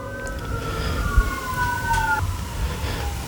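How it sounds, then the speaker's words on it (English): Emergency sirens from police, ambulance and fire trucks wail at moderate distance, a few overlapping tones sliding slowly up and down over steady traffic rumble. "here's a police siren, ambulance, fire truck."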